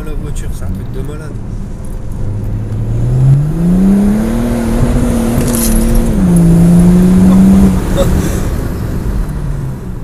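A BMW E92 335d diesel revving as it drives, with engine pitch sweeping up and holding steady at a loud, sustained level. People talk alongside the engine.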